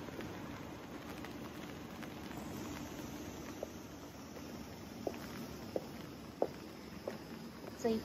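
Rain falls steadily outdoors, a faint soft patter and hiss with scattered louder drip ticks toward the end, no voices present.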